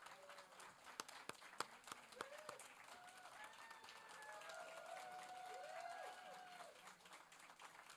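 A church congregation applauds the youth on Coming of Age Sunday: a faint, steady wash of clapping from a crowd in a large hall, with a few sharper claps early and a brief voice heard over it.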